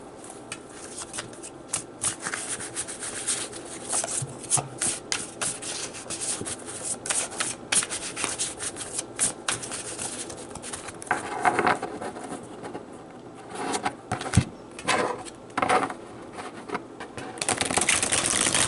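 Thin, slippery tarot cards being shuffled repeatedly, a rapid papery riffling and flicking that continues steadily, close up and fairly quiet, with no talking.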